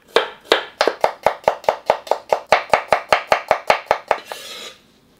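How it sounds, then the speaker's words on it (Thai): A knife thinly slices shallots against a cutting board, about eighteen crisp, evenly spaced strokes, close up, then stops. "หอมแดงครับอันนี้นำมาซอยบางๆไว้เลยนะครับ"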